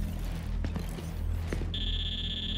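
A steady, high electronic beep tone sounds from the Gears 5 video game, rising over low ambient hum and a few soft thuds, then holding on.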